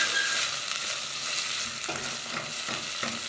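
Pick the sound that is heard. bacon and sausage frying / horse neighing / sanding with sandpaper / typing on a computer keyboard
bacon and sausage frying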